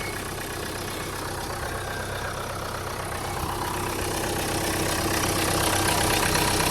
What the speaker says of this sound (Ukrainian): Двигун працює рівненько, гарненько.